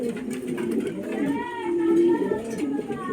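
Pigeons at a Bangladeshi pigeon seller's coop give soft, throaty cooing in repeated warbling phrases, close and moderately loud, with someone talking over them.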